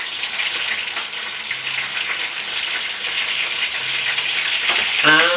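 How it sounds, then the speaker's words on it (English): Sausage meat sizzles steadily in a frying pan, a close continuous crackle with faint clinks, ending in a brief louder scrape. "so I'm going to flip the sausage meat over"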